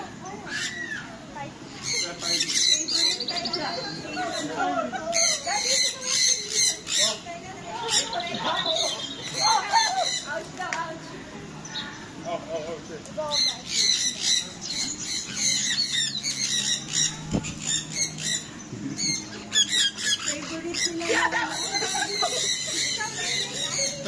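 Pet birds let out sharp, shrill squawks and chirps in irregular bursts, close and loud, while people talk softly in the background.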